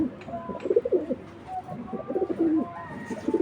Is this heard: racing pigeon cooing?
yes